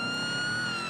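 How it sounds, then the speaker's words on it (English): A police car siren in GTA 5 wails loudly and continuously, its steady electronic tone sitting over a low rumble of car noise, with no talking. "we could turn our sirens off now"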